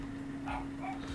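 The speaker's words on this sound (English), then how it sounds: "You can hear the dog in the background because there's a delivery outside" A dog gives a few faint, high yips and whimpers somewhere in the house, reacting to a delivery outside, heard over a low steady hum.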